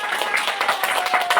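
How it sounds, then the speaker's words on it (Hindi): Audience clapping at a Ceragem product gathering, a short burst of scattered hand claps filling the room, fairly close and moderately loud. "तालियां दिल खोल के"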